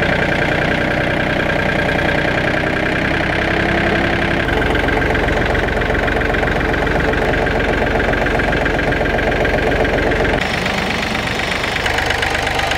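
A Yanmar FX 265 mini tractor's diesel engine idles after warm-up, a loud, steady knocking chug close by, running continuously with no speech.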